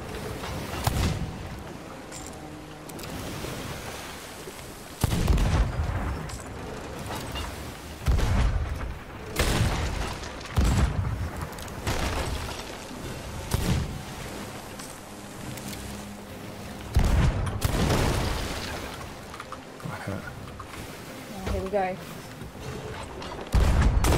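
Cannon booms and pistol shots in a ship battle against a ghost ship in the pirate game Sea of Thieves, heavy blasts recurring every few seconds over wind and sea noise while players talk throughout.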